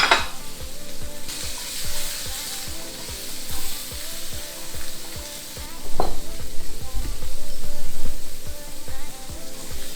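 Leftover Spam and eggs fry in a pan, a steady close sizzle broken by repeated scraping stir strokes of a utensil against the pan, with a louder burst of crackling toward the end.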